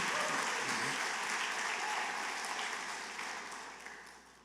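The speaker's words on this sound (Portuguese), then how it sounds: "Aplauda mais forte ao Senhor." Strong applause from a church congregation during a worship service, a dense wash of clapping that starts loud and gradually fades over a few seconds, with no voices over it.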